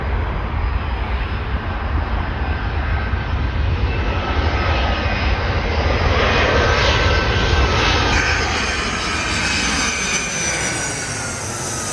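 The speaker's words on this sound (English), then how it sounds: "we got a Boeing 757-224 United Airlines from IAD Washington Dulles International Airport" A United Airlines Boeing 757-224 jet at O'Hare airport roars past with a loud, steady broadband engine rush that swells and slowly fades over several seconds, heard alone without talk.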